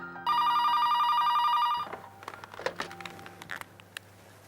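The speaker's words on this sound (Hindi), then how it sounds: "फोन की घंटी" An old-style telephone bell rings in a continuous loud electronic trill for about a second and a half, then stops, leaving faint tapping and shuffling sounds in a quiet room.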